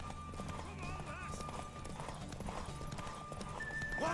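Horse hooves clip-clop steadily in a video game as a horse neighs and whinnies, with in-game character voices talking over the sounds.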